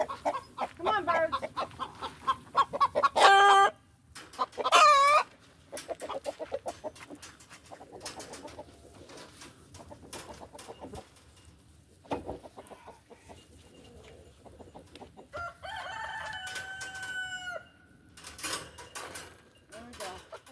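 Chickens clucking around an evening farmyard, with louder drawn-out calls and a rooster-like crow rising above a busy background of birds and faint voices.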